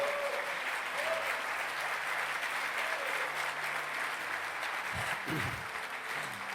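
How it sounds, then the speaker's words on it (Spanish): A church congregation applauds for the Lord at a Spanish-language worship service, a steady, dense wash of clapping lasting throughout, with a brief low voice near the end. "Dale un aplauso al Señor."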